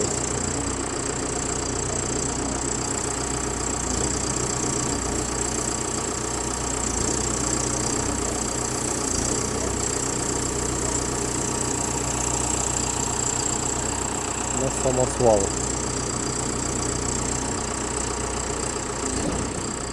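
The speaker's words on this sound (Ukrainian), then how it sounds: "Це вже контейнеровоз." A container truck's engine idles steadily nearby, a continuous low rumble that holds for the full stretch with a small surge midway and no talking.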